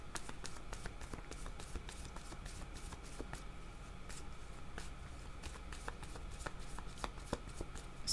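Playing cards shuffled during a card reading, a steady run of quick riffling flicks and clicks over a low background hum, close and moderately quiet.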